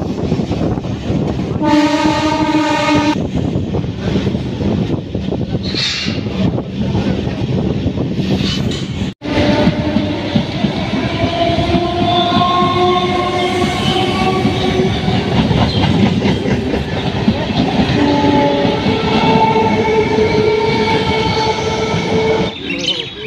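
A Lalgola MEMU special running from Ranaghat to Murshidabad rumbles along with steady wheel clatter, a loud horn blast near the start and long, whining tonal squeals drawn out over the moving carriage noise.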